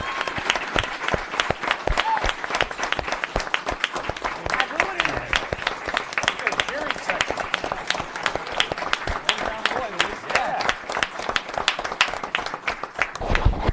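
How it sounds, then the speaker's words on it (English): A town board meeting audience applauds the Yorktown Police Department, with sustained clapping from a room full of people for about fourteen seconds, crisp individual claps at a steady moderate level and brief murmurs underneath. "So we give a round of applause for the Yorktown Police Department, Officer Domenico Donati."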